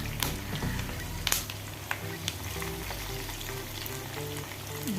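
Chicken pieces fry with curry leaves in hot oil, giving a continuous close crackling sizzle with occasional sharper pops and a soft low hum underneath.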